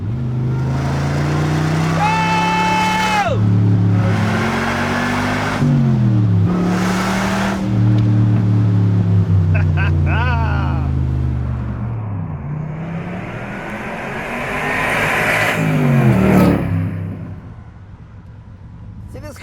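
Corvette engine revving and accelerating on a drive up into the hills, its pitch climbing and falling through several close, loud pulls with brief shifts between them, with some talk in the car.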